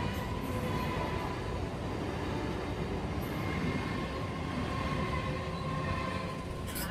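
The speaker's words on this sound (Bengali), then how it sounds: "এখন আপাতত সুভাষগ্রাম রেলগেটের সামনে আমি দাঁড়িয়ে আছি, ট্রেন যাচ্ছে।" A train rumbles steadily past a railway level crossing at Subhashgram, a continuous low roar and rattle of wagons at moderate distance, without pause.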